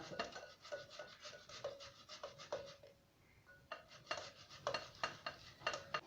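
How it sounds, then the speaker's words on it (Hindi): Potatoes rubbed against a metal grater in quick repeated rasping strokes, close and fairly quiet, with a brief pause midway before the steady scraping resumes. "सबसे पहले हम एक ग्रेटर की मदद से आलू को ग्रेट कर लेंगे।"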